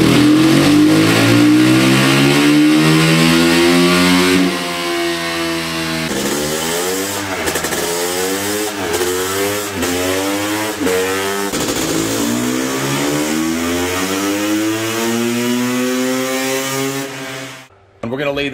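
A stock 2022 Honda CRF450 Works Edition dirt bike and a CR500 rev on a dyno. The engine screams loud and close through repeated rising sweeps in pitch, then is cut off abruptly near the end.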